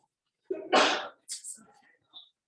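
A loud, close sneeze bursts out after a quick intake of breath, followed by a few faint breathy sounds and a short murmur of voice.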